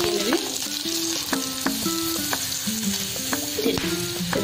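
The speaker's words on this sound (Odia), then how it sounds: "ତେଲ ତ ଗରମ ହେଲାଣି, ସେଥିରେ ମୁଁ ତେଜପତ୍ର ଗୋଟେ ପକାଇ ନେଉଛି" Bay leaf, a piece of cinnamon, cloves and green chilli go into hot oil, giving a loud, steady, close sizzle with occasional stirring clinks and spatters.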